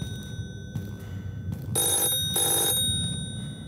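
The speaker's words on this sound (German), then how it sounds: "Ist hier ein Telefon? Was ist denn hier ein Telefon?" An old-style telephone bell rings inside a horror video game, with two loud, bright ringing bursts over low rumbling ambience and no speech.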